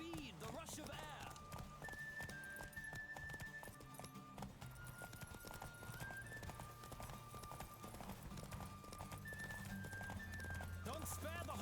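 Horse hooves clip-clop steadily through a Witcher 3 race on Roach, the hoofbeats running under a continuous bed of music and game sound while a voice speaks over them.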